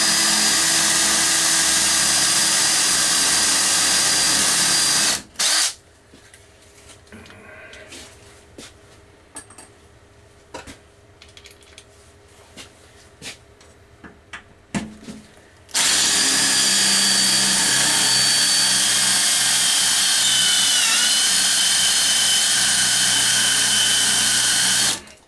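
A power drill bores pilot holes into aluminum to remove rivets on a Bohn half round evaporator. Two long, loud, steady bursts of drilling open and close the clip, with a quieter stretch of small knocks and taps between them.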